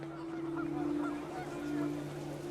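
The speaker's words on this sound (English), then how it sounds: "panicked geese appeared and quickly went." Geese honking in the video game What Remains of Edith Finch as wind picks up, a few faint scattered honks over a steady low drone and windy background.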